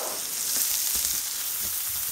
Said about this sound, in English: I want to sear that for about 3 or 4 minutes on each side